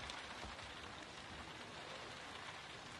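Steady, soft patter of rain falling continuously, with no voices.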